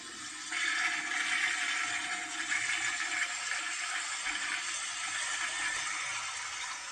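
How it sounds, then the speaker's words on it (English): A long toilet flush rushes steadily from start to finish, loud and close, with water swirling and draining continuously and no voices. "A nice, long toilet flush."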